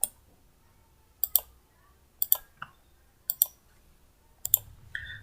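A computer mouse clicks in road design software, with crisp single and double clicks spaced about a second apart against near silence.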